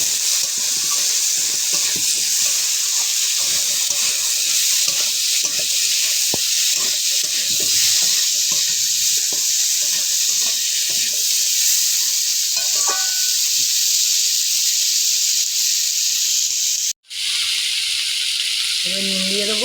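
Thinly cut potatoes fry in a pan for a village-style crab dish, a loud, continuous sizzle with occasional stirring scrapes and a brief cut near the end.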